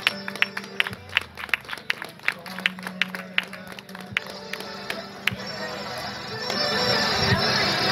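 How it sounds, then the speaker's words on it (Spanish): Crowd at a cycling event applauds the Costa Brava women's team, starting with scattered individual claps that build into a fuller, denser round of applause, while a voice speaks over it. "Ese fortísimo aplauso para la Costa Brava."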